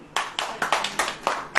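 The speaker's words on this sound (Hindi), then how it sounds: "ताली बजाओ" A church congregation claps at a sermon, sharp irregular bursts of hand claps close together, loud and short without any talking.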